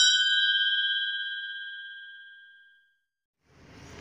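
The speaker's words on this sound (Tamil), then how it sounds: "பக்கத்தில் வர பெல் பட்டனையும் ப்ரெஸ் பண்ணிக்கோங்க." A single bright notification bell chime rings out loud and clear, then fades smoothly over about three seconds, followed by a moment of silence and a soft rise of background hiss.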